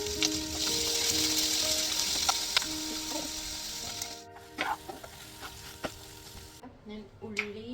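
Chopped onion and ginger sizzle in a pan, a bright steady crackle that fades after a few seconds, leaving quiet clicks and light stirring taps.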